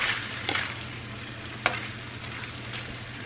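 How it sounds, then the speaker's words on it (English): Meat and vegetables stir-frying together in a wok, with a constant close sizzle under a low hum and a few brief scraping stirs and one sharp tap of utensil on metal. "So it's cooked now, and now I'm going to add all the veggies. And we're just gonna combine everything and heat it up."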